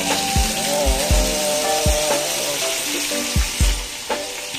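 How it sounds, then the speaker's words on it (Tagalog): Onion, garlic, chili and tomato sauté in a hot pan with a constant sizzle, broken by repeated thuds and scrapes as a utensil stirs the mixture in an uneven rhythm. "Gisa-gisa lang natin"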